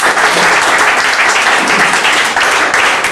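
A church congregation applauds, dense and steady clapping from many hands filling the space at close range without pause.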